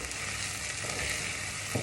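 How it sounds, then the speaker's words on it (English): Onions fry in a pan with a soft, continuous sizzle and a faint stirring scrape near the end, quiet and close with no voices. "the onions are just about, they look nice and soft, they're starting to go brown"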